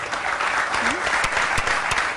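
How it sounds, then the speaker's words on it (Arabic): A studio audience claps for fans of Al Wasl during a magician's TV show in Abu Dhabi, a steady, full burst of applause with a brief voice sound over it. "تصفيق لهم يستاهلونها"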